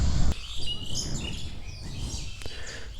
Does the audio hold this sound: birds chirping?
yes